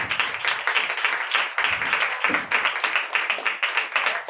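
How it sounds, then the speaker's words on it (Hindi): A church congregation claps together enthusiastically, producing dense, rapid, steady applause that carries on for several seconds. "खुदा के कलाम के लिए और खुदा के बंदा के लिए हम जोरदार तालियां बजाएंगे"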